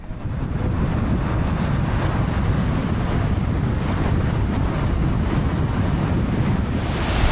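Water welling up and flowing from a large spring hole in the ground in Afghanistan, heard as a steady, loud, full rushing wash that never lets up, with wind buffeting the microphone and no voices.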